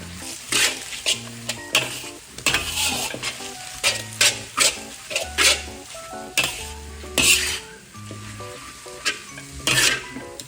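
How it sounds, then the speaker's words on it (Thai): Marinated pork seasoned with oyster sauce, soy sauce and pepper is stir-fried in a pan for pad see ew, with loud, rhythmic spatula scrapes and clanks over a constant sizzle, close up with no talking. "แล้วก็จะผัดให้หมูสุกนะคะ"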